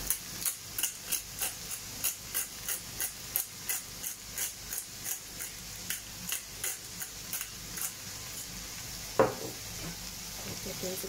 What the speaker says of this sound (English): Give those a good stir